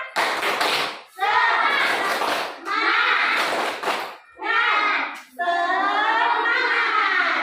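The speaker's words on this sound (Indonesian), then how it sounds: "Tepuk semangat" A classroom of children chants a spirit-clap routine in unison, with rhythmic hand claps and taps mixed into their loud group voices, in bursts separated by short pauses.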